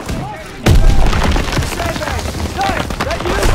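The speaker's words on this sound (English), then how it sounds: "Gunfire! We must be near our guys." A sudden heavy boom followed by dense, chaotic bursts of World War II gunfire and impacts in Call of Duty: WWII, loud and close, with shouted voices mixed into the din.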